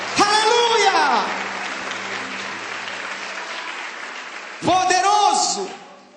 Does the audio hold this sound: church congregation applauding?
yes